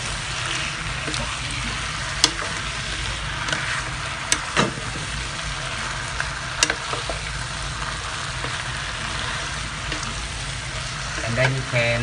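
Chinese-style fried noodles are stir-fried with sauce in a pan, giving a continuous close sizzle broken by occasional sharp clinks and scrapes of utensils.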